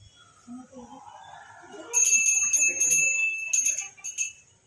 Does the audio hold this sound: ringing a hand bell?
yes